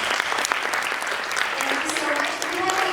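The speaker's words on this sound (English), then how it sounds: "can we have a round of applause for Olivier?" An audience at a PR Asia 2016 conference session claps for a speaker, a dense, steady wash of applause filling the room, with a voice briefly audible over it toward the end.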